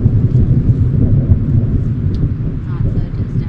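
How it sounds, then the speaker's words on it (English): Low, continuous rumble of thunder from an approaching thunderstorm at a remote wilderness campsite, a broad steady roar that fills the whole stretch. "Looks like we have another powerful thunderstorm coming."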